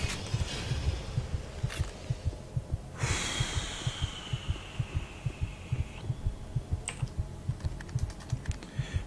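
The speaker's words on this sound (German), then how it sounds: "Da der Herzschlag jetzt hier schon so auf die Nerven geht" Heartbeat in the sci-fi horror shooter Doom 3, a steady rhythmic double-thump pulsing throughout at moderate volume, with a few brief metallic whooshes and clicks layered over it and no talking.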